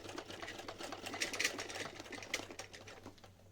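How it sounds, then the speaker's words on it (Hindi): A sewing machine stitching fabric for a small Laddu Gopal dhoti, a quiet rapid mechanical whirring run with fast rhythmic needle clatter, steady for a few seconds and heard alone. "सिलाई लगा दें।"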